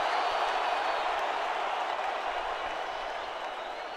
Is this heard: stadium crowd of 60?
yes